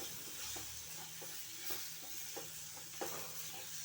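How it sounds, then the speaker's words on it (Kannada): Tomatoes and coriander sautéing in a pan for palak chutney, giving a steady close sizzle with intermittent scraping stirs throughout and no talking. "ಇದು ಟೊಮೆಟೊ ನೋಡಿ ಈ ರೀತಿ ಬಾಡಿಸ್ಕೋಬೇಕು"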